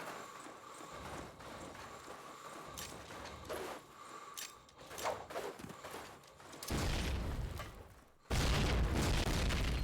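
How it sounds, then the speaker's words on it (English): Anti-rush grenades going off in a competitive video game match: scattered thuds and clatter give way to two loud, sustained booming blasts near the end. "Two, three, four anti-rush nades for TcfC, and they will be coming strong and fast."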